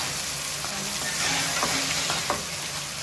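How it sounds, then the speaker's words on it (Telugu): Tomato paste sizzles with browned onions in a frying pan, a steady hiss of frying with a few soft scrapes and stirs, close and continuous without talk. "టమాటా పేస్ట్ వేసి మగ్గించుకోవాలి"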